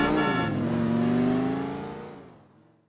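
A car engine in the GTA IV video game holds a steady, loud drone with a rising pitch, then fades away after about two seconds, with no talking.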